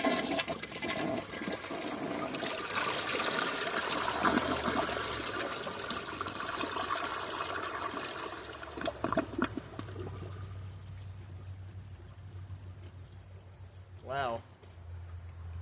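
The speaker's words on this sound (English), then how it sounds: "It basically flushed like a regular two-piece Imperial." A 2004 Kohler Kathryn toilet with its tank filled nearly to overflowing flushes with a loud rushing surge of water, then tapers into a softer refill trickle, with a brief voice near the end.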